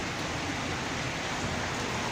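Steady rain falls outside an apartment window as a dense, even hiss with no breaks, moderately loud and constant throughout, with no voices.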